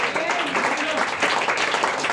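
A church congregation applauds loudly and continuously, a dense wash of clapping with voices mixed in throughout.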